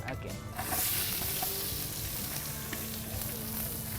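Onion hitting a hot pan in a cookery show kitchen, a dense, continuous sizzle with light stirring clatter underneath, close and steady throughout.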